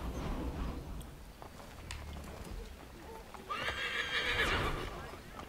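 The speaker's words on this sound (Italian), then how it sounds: "Scusi, signora, c'ho il cavallo che vuole ingropparsi." A horse neighs loudly in Assassin's Creed III, a rising then falling whinny near the end, with soft hoof clip-clop and game ambience underneath.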